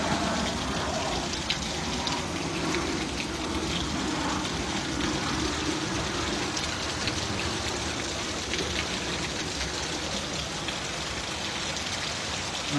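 Heavy rain pouring down hard, a dense, steady hiss of drops on surfaces that holds at an even level throughout with no talk.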